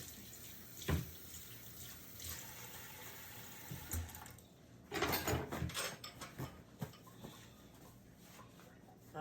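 Running tap water splashes over hands at a kitchen sink while cooking Jamaican oxtail, with a louder gushing burst midway among clinks and handling noises.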